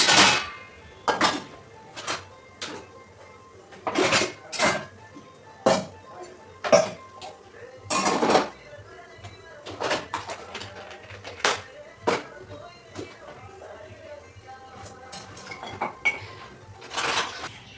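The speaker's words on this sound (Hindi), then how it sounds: "मैंने जो रात को बर्तन मांजे थे वो लगाने लग गई थी यहाँ पे।" Washed pots, plates and steel utensils being stacked and put away in a home kitchen after the night's dishwashing, a series of sharp clanks and metallic clinks at irregular intervals, close by, with no talk.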